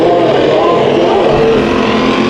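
Race cars roar together down the straight at Bakersfield Speedway on a restart, a loud continuous blend of engines close by with no talk.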